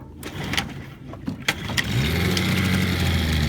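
A boat's outboard engine is pull-started after the choke and fuel are primed: a few sharp cranking pulls, then the motor catches and settles into a steady, loud running drone.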